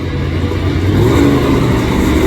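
A monster truck engine revs loud and close before a wheelie attempt at a competition, a dense low rumbling roar held steady and unbroken throughout, with no voices over it.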